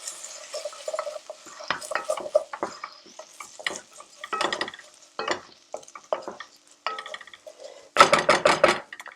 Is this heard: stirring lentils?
yes